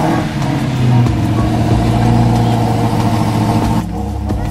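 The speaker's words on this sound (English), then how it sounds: "While all of us are just obnoxiously revving in the parking lot" Muscle cars, including a Shelby Cobra and a Mustang, rev their engines in a parking lot at a car meet, with a loud, close, throbbing rumble and repeated revs that drop back near the end.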